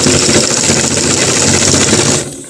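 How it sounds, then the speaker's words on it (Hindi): A sewing machine runs steadily, stitching coat fabric for a bone pocket, a loud, close, fast mechanical whirr that stops abruptly just before the end. "बिल्कुल इसके पास से आराम से सिलाई लगाना है। सिलाई बिल्कुल सीधा लगाना है।"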